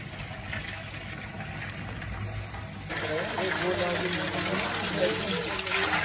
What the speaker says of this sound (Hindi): उसके अंदर अभी पानी डाला जा रहा है